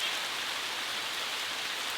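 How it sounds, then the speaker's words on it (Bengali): Steady rain falls outdoors during cooking, a continuous even hiss of drops on surfaces, constant and moderately loud with no voices. "কতবার বৃষ্টি এলো, কতবার বৃষ্টি থামলো।"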